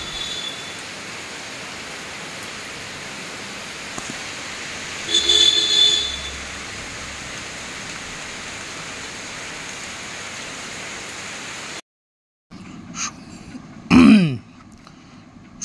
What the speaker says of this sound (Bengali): কিন্তু এখন ফাটিয়ে বৃষ্টিটা হচ্ছে।